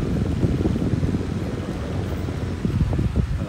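A strong rush of airflow from an electric fan running on a 12-volt battery buffets close to the microphone, a continuous low roaring whoosh with gusty fluctuations and no talking.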